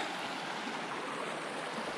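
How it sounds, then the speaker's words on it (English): Creek water flowing steadily at a trail crossing on Arasta Creek during a mountain trail run, a continuous close rushing wash with no voices. "Another water crossing down here at Arasta Creek."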